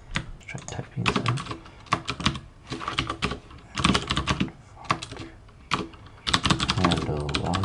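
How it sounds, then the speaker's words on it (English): Code being typed on a computer keyboard while setting up a Swift login screen in Xcode: irregular bursts of clattering keystrokes with short gaps, close and fairly loud. "Let's try typing this in."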